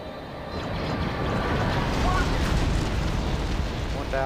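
A bomber craft's engine roars in the 2005 game Star Wars Battlefront 2, a broad, rushing, turbulent drone that swells slightly and holds steady for about four seconds without talk.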